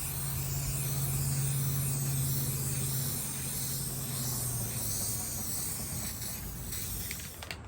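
Spray paint hissing from an aerosol can onto a wooden wren birdhouse outdoors, a steady close hiss lasting several seconds with a low tonal hum beneath it, then tapering off near the end.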